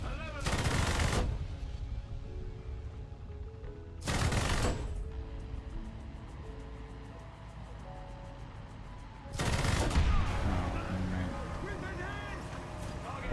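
Video game gunfire arrives in three loud bursts of rapid automatic fire, each lasting about a second and spaced several seconds apart, while a player keeps talking between and under them.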